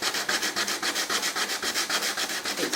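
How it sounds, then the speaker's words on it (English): Sandpaper is rubbed by hand over wood filler on a wooden chess box. The close, steady strokes go back and forth in an even rhythm without pause. "I've had another go with the sandpaper. Let's try and get rid of some of this filler."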